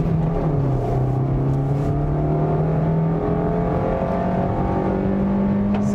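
Maruti Suzuki Swift hatchback accelerating hard during a 0 to 100 run, its engine note climbing steadily through the revs with a continuous loud droning whine and shifts in pitch, heard close up from inside, with no talking.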